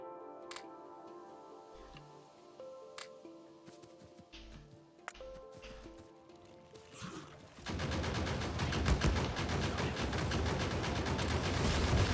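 Turrets firing at enemies in the video game Factorio with the Krastorio mod, scattered clicks and pings at first, then a dense, loud stream of rapid gunfire that continues to the end.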